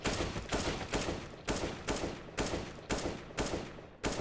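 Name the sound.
gunshots in video game Counter-Strike: Global Offensive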